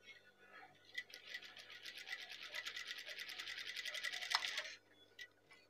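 A sewing machine stitches the collar of a hand-drawn batik tulis Pekalongan shirt in one steady rapid run of about four seconds, moderately close, then stops, with quiet room sound before and after.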